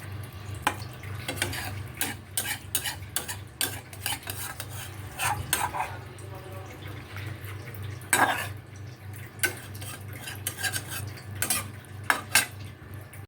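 Utensil scraping and clinking in a pan as tilapia fish curry is stirred over low, steady sizzling, with irregular sharp taps and scrapes.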